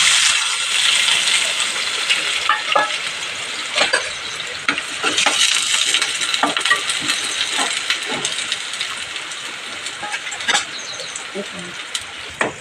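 Onions fry in oil in a pan for a drumstick and tomato curry, giving a constant soft sizzle broken by scattered clicks and scrapes of stirring.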